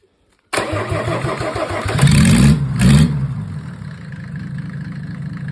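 A Mercedes OM603 diesel engine, removed from a W124 car and with a mechanical injection pump, cranks and catches after a brief silence, revs up twice loudly, then settles into a steady rumbling idle.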